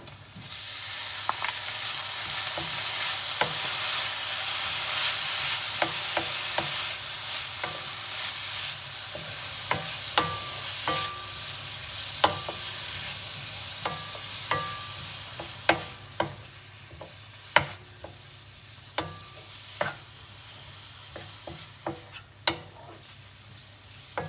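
Beef mince fries with softened onion in a pan, a continuous sizzle broken by frequent sharp clicks and scrapes of a utensil stirring, growing more pronounced toward the end.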